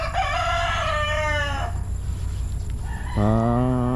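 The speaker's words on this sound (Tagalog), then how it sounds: "Yan, sitwasyon ng Manukan, Boss Gary." Chickens and roosters at a poultry farm in the early evening, with a drawn-out rooster crow near the start and another loud crow near the end, over a steady background of clucking fowl.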